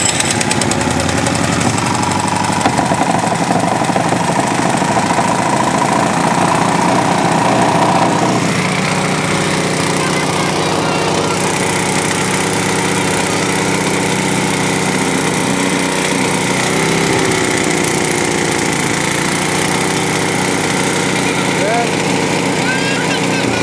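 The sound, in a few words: engine-powered auger running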